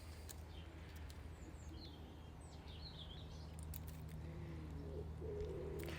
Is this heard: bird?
yes